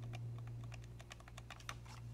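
Repeated hushed clicks of the left button on an Elecom M-DT2URBK mouse with Kailh silent switches, a quick irregular run of faint taps close to the mic over a constant low electrical hum.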